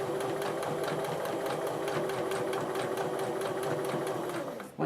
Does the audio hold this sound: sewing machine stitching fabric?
yes